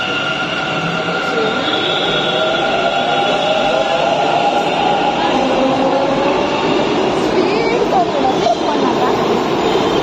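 A Bangalore metro train arriving rumbles loud and steady with a rising electric whine, while voices chatter faintly underneath.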